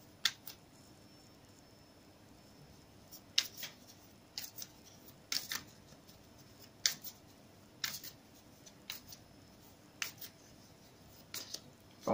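Tarot-style Love Island cards are shuffled and drawn in a quiet room, giving soft scattered snaps and flicks every second or so against a faint background hiss, with no talking.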